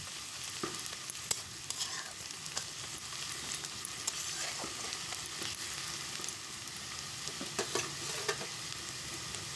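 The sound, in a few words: garlic paste and onion frying in oil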